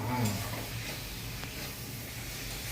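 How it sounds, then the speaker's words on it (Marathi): Tomato paste fries in a pan with a soft, continuous sizzle and the occasional stir, steady and fairly quiet. "आता काय टमाटर बसले, एकटा टमाटर पेस्ट भाजायचं चालू आहे"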